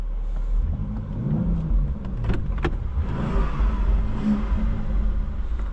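A BMW X4 M in M2 mode accelerates, its engine giving a loud, deep rumbling drone that swells and holds, heard from inside the cabin with a couple of brief clicks partway through.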